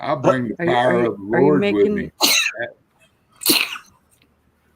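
A single sharp sneeze bursts out after a stretch of indoor talk, followed by a second, quieter sneeze-like burst; a voice speaks just before both.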